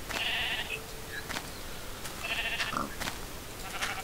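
Sheep in the Minecraft video game bleat twice in short, nasal calls, with scattered game clicks and taps in between at moderate volume.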